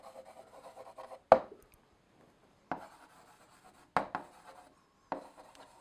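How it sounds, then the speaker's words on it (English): A pen or marker writes out a math series by hand with soft scratchy strokes and several sharp taps against the board, quiet and close, in short separated bursts. "I'm just going to write the given series"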